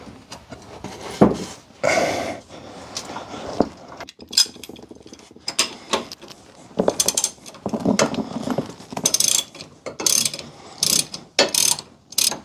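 A hand ratchet clicks in short, irregular bursts while bolts are worked loose inside the wheel well of a 1993 Chevy Blazer, with metallic clinks and pauses between the bursts.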